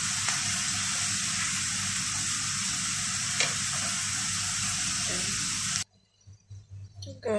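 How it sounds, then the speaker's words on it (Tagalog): Chopped onion browning in hot oil in a pan while quail are being cooked, a steady, even sizzle lasting about six seconds before cutting off abruptly into near silence with a few faint clinks. "Pa-brown lang natin itong onion."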